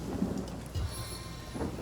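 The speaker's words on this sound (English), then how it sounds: "What a deluge!" Heavy rain pours steadily with deep thunder rumbling under it during a Divinity: Original Sin storm, a loud dense wash of game weather with no voices.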